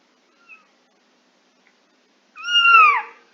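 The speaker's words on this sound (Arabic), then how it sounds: "صوت قطة." A cat meows: a faint short mew early on, then one loud, drawn-out falling meow near the end, otherwise quiet.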